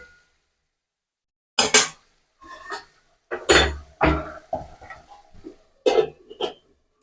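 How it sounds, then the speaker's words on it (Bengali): Metal lid set onto a cooking pot of pumpkin, several sharp clinks and clatters in short bursts against an otherwise quiet kitchen, close and fairly loud. "এবার এটাকে আমি একটু ঢাকা দিয়ে রান্না করে নেবো।"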